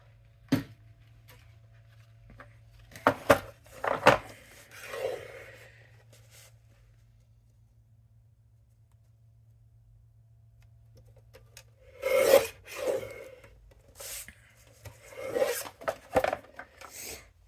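Card stock is trimmed on a small paper guillotine trimmer in a quiet room, making a few short sharp slicing and rubbing strokes in two bursts separated by a low steady hum.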